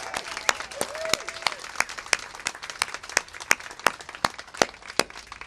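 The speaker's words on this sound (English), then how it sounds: "Let's give him a big round of applause." A press briefing crowd claps for a speaker at a community farmers market event in Pacific Palisades, sparse and thinning applause with individual sharp claps standing out, plus a faint voice in the background.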